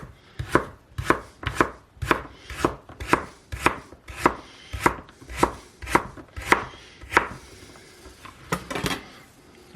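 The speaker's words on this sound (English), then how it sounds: "what we're going to do is we're going to slice it like that." A knife slices vegetables for vegetarian borscht on a cutting board, about fifteen crisp, evenly spaced chops in a steady rhythm, close and clear, with no talking.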